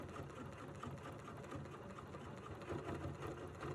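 A sewing machine stitches couched fibers, a continuous low mechanical whir with a fast even rhythm, close but moderately quiet, with no voices.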